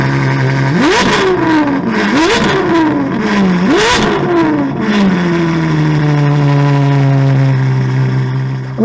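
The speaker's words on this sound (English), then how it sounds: "It has a beautiful sports exhaust system from us that puts such an extravagant note" A Ferrari 812 GTS V12 with a Novitec sports exhaust revs hard three times in quick succession, each loud, sharp blip rising and falling before the engine settles into a steady idle.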